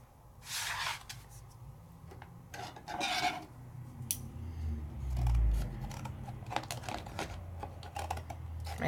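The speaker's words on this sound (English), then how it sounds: "My scissors aren't very long, so I'm going to come from both sides." Short scissors chop and rasp through thick mat board in repeated, uneven cutting strokes, close and fairly quiet, with faint handling noises between cuts.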